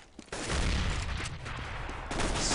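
AK rifle spray fire in Counter-Strike, a sustained dense stream of rapid gunshots that keeps going almost without pause, loud and continuous, with no voices.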